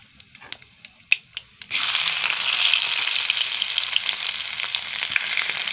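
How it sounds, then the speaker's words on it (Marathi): Garlic drops into hot oil already holding mustard seeds and cumin for a capsicum dish. A few light taps come first, then a loud, steady, close sizzle crackles on to the end. "लसूण लाल लाल लालसर भाजून घ्यायचा।"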